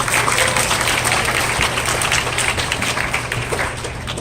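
Audience applause welcoming a lecturer at a science jamboree talk on appropriate technology, a steady dense wash of clapping from a crowd filling the whole stretch at even loudness.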